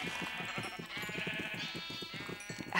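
Several sheep in Minecraft bleat repeatedly, overlapping wavering cries close by that fill the whole stretch.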